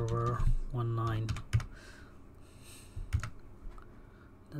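A server name being typed on a computer keyboard produces a quick patter of clicking keystrokes, heard with a voice talking over them.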